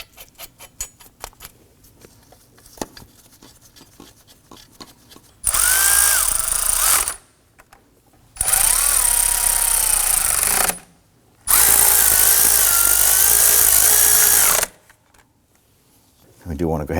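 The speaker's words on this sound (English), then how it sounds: "you can use your impact driver to go ahead and run those in." An impact driver runs in bolts under the hood of a 2003–2014 Volvo XC90 during a serpentine belt replacement. Three loud, rattling bursts of about two to three seconds each are separated by pauses and follow quieter clicks and handling noises.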